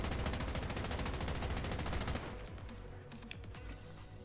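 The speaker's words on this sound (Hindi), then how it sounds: "तो मैंने दोबारा से फायर किया" Automatic gunfire in the Call of Duty Mobile video game, a loud rapid burst for about two seconds, then quieter scattered game sounds.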